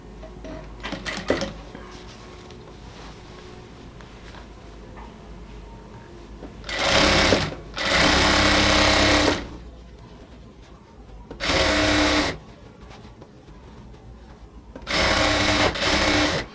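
A sewing machine stitches the folded elastic waistband of ladies' pants in several loud, rapid bursts of a few seconds each, separated by quiet pauses while the fabric is adjusted.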